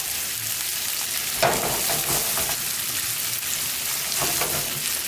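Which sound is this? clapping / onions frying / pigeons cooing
onions frying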